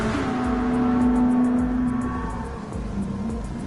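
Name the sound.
race car engines roaring at Fuji in video game Gran Turismo 7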